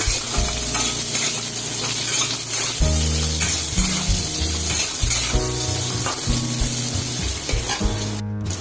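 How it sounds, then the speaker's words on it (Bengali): Potato pieces fry in a pan for a Bengali dudh shukto, giving a steady loud sizzle with repeated scraping stirs of a spatula throughout, no voices. "আলু ছাড়ছি এবার একটু ভাজা ভাজা করে নিচ্ছি"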